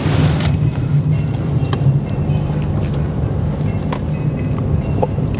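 A Mercedes C200D car drives through a roundabout at about 60, heard from the cabin as a steady low road and engine rumble with wind hiss and faint rattles, and no talk.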